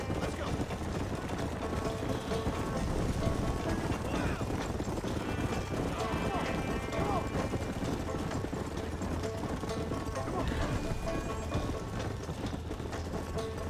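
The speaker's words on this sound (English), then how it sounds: "This horse is so slow." Horse hooves galloping in the game Red Dead Redemption on PS4, a steady rapid clatter under dense game ambience and mechanical rattling, continuous and moderately loud.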